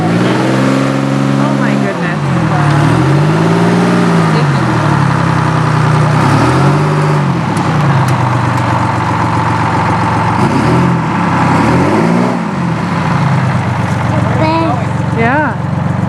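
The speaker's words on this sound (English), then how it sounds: "So thanks to my friend Kevin's tow strap, we were able to pull the bus out." A bus engine roars and revs in repeated rising and falling swells while it is pulled out with a tow strap, loud and close, with a person exclaiming over it.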